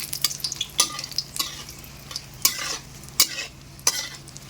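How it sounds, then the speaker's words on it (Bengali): Bay leaves, dried red chilies and whole garam masala crackle and sizzle in hot oil as a spatula stirs, with sharp intermittent scrapes and pops over a steady frying hiss, close up. "এর মধ্যে আমি তেজপাতা আর শুকনো লঙ্কা দিয়ে দিলাম ফোড়ন আর আমি এর মধ্যে কিছু গোটা গরম মশলা দিয়ে দিলাম"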